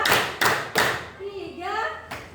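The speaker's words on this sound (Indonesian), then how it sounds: "Tepuk 1, tepuk 2, tepuk 3" Classroom of students at a senior high school clapping hands in counted rounds, three sharp ensemble claps in quick succession followed by a teacher talking, then another single clap.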